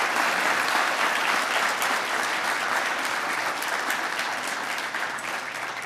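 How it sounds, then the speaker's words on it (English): Steady, dense applause from an audience at a fire department awards ceremony, even and sustained for several seconds with no talk over it. "let's give them a round of applause as well"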